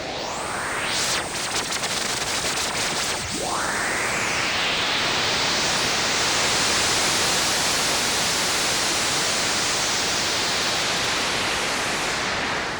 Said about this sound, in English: just hear what it sounds like with a single continuous white noise signal being manipulated by this filter